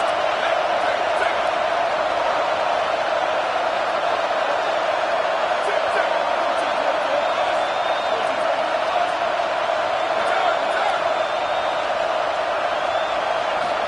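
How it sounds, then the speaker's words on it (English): A loud, steady roar from a college football stadium crowd at a Notre Dame versus Washington game, sustained throughout without a break, with faint speech mixed into the din. "Listen to the crowd energy here in the early going."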